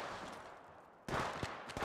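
Gunfire in Apex Legends Mobile during a multi-squad fight: a steady rumble of distant shooting, then a sharper burst of closer shots with a few distinct cracks, no voices.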